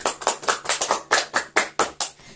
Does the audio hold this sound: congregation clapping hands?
yes